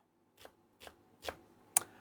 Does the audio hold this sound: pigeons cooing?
no